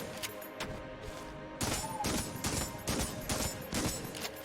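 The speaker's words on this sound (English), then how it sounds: "I'm gonna shoot a wall with it. This is how shovels work, right?" Repeated gunfire from the shovel gun in the game Enter the Gungeon as it shoots a wall, a string of sharp, loud blasts in quick succession over a background game soundtrack, with no voices.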